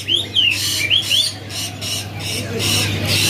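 A young canary about two or three months old, kept at a bird kiosk, gives short squawking calls and chirps at close range, with a steady background hum and some voices around it.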